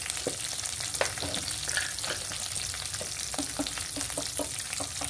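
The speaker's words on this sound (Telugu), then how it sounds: "కరివేపాకు వేసుకొని బాగా వేయించుకున్న తర్వాత ఇవన్నీ బాగా వేగేయండి" Curry leaves and spices fry in a pan for mango rice, a dense close crackling sizzle with rapid popping and spattering throughout, no voices.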